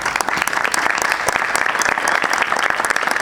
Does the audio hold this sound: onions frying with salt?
no